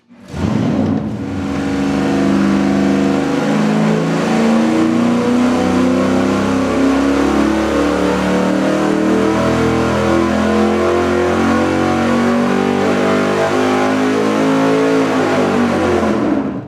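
A Windsor V8 engine with a swapped intake manifold revs on a dyno test, roaring loud and steady as it climbs through the revs for about fifteen seconds, then cutting off.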